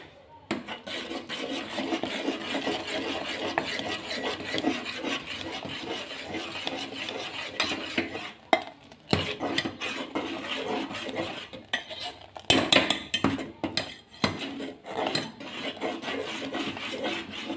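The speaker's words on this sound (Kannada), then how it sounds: "ಈ ಥರ ಬೇಗ ಬೇಗ ಮಿಕ್ಸ್ ಮಾಡಿ ಇಲ್ಲ ಅದು ಗಟ್ಟಿ ಆಗ್ತದೆ ಕಸ್ಟರ್ಡ್ ಪೌಡರ್ ಹಾಕಿದರೆ" A spoon works quickly around a pot as custard powder is stirred into vermicelli payasa, making a fast, continuous scraping and clinking rhythm with a few brief pauses and sharper knocks against the metal.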